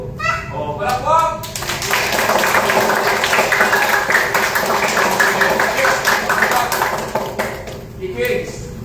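Group clapping in a martial arts class at a mall training hall, a steady burst of many hands lasting several seconds, with children's voices briefly heard before it starts.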